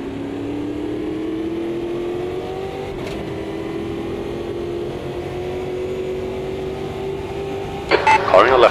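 A race car engine in the racing video game Automobilista 2 holds a steady, loud drone whose pitch slowly rises under acceleration, followed by a brief rattling burst near the end.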